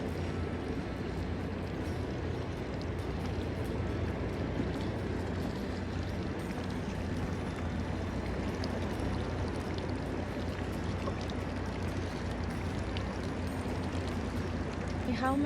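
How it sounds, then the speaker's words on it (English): Ocean waves wash against a boat in Lindenow Fjord, a Greenland inlet scattered with icebergs, making a dense, steady rushing roar that holds at the same loudness throughout, with possible faint voices mixed into the water noise. "the waves are getting a little bit bigger towards us now"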